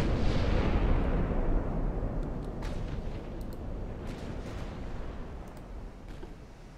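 Warship guns firing in the naval battle game Ultimate Admiral: Dreadnoughts, a heavy booming blast that rolls off into a long, fading rumble, with faint distant cracks afterward.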